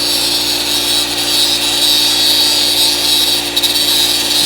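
Cutoff wheel lightly surfacing metal during a Crew Cab Charger restoration, a steady, loud high-pitched grinding whine that holds without pause.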